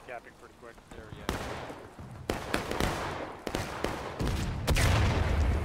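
Musket fire in a War of Rights battle, with repeated loud, sharp reports at irregular intervals, some close and some farther off, thickening into heavier volleys toward the end as voices talk underneath.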